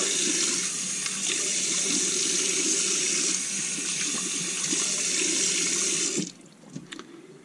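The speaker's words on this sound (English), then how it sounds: "let me rinse this off." A tap runs steadily into a sink while a straight razor is rinsed under it, a loud close hiss of water that stops abruptly near the end, leaving a few faint drips and clinks.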